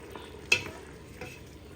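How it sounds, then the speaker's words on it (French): Hot kettle water goes into a casserole of lamb shanks, giving a soft, low sizzle with a brief clink of the pot near the start, heard close and quiet. "Maintenant, je vais rajouter mon eau bien chaude."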